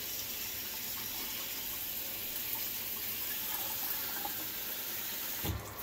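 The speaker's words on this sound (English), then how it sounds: "Turn the sink on and then use the sprayer and just soak it really good." Kitchen sink sprayer soaking a potted plant, a steady hissing spray of water running continuously and close, ending with a brief clunk.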